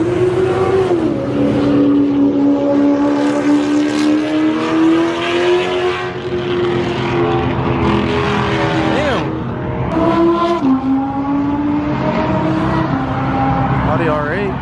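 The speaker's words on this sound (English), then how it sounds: "Damn. Audi R8." An Audi R8 engine runs loud and close at a Texas street car event, its tone climbing and falling as it revs, with a short dip in the middle before roaring on.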